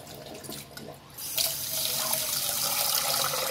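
Water gushes steadily from a kitchen tap to rinse rice, starting softer and then swelling into a loud, continuous splashing stream into the sink.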